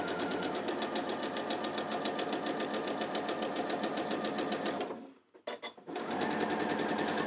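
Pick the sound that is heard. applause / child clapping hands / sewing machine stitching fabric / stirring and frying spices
sewing machine stitching fabric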